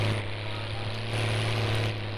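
Sonalika 60Rx tractor engine in Farming Simulator 19, straining to pull an oversized heavy trolley, a steady loud drone with a constant low hum that runs unbroken and close throughout, no talking.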